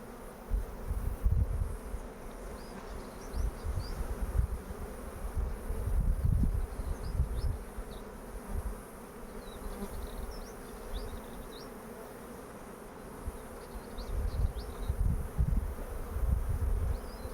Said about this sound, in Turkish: Arı tedirgin arkadaşlar.